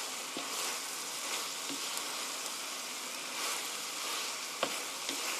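Mushrooms stir-fried with chicken in a pan make a continuous bright sizzle, with occasional soft scrapes and taps of stirring, close and steady, no talking.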